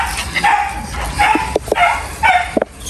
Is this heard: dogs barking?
yes